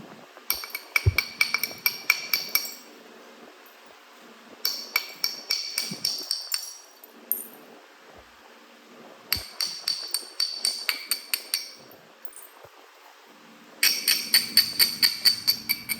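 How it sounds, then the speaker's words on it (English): Hammerstone strikes beveling the edge of a Florida coral preform during flintknapping, sharp clicking taps in four quick bursts of several blows each, close and alone with no talking. "Now I'm going to bevel. Hit off this side."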